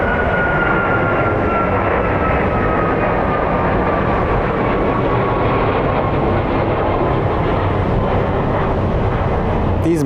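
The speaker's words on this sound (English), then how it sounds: "These Maxes are really nice planes." A Boeing 737 MAX airliner at Phoenix Sky Harbor airport, a loud continuous engine roar that fills the whole stretch, close and steady, with a faint whining tone gliding downward.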